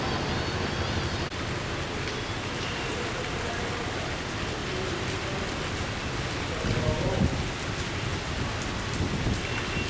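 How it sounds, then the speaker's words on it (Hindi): A torrential downpour pours steadily over Udaipur with a dense, loud hiss of heavy rain and low rumbles of thunder rolling beneath it, the storm continuous throughout with no voices. "करीब 1 घंटे तक चली मूसलाधार बरसात से चारों तरफ पानी ही पानी"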